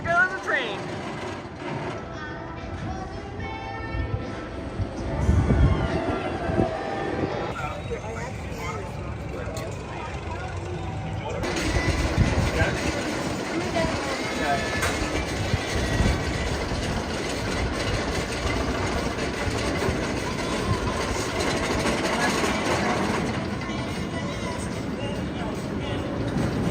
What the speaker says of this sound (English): Here goes the train.